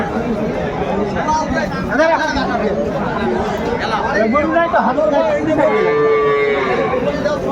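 Cows with calves moo repeatedly at the Aftabganj cattle market, loud drawn-out lowing calls rising over a busy crowd of chattering voices and nearby talk.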